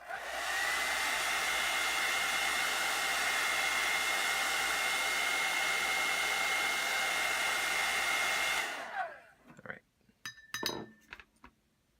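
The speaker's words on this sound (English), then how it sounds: "Hair dryer for a second" A hair dryer blows loudly and steadily for several seconds, then cuts off, followed by a few light clinks and taps in a quiet room.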